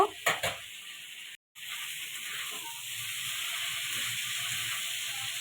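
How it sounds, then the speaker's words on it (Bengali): Chopped vegetables frying in a pan for egg Maggi, a steady close hiss and sizzle after a few brief clatters at the start, with no voices. "আমি সাথে ভেজিটেবলস কেটে নিয়েছি, ভেজিটেবলসটা ভেজে নিচ্ছি।"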